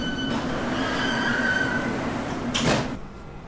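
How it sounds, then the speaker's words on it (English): A London Underground Central Line train hums steadily with a sustained motor tone, then a short sliding-door rush near the end before the noise eases off. "This is a Central Line train to West London."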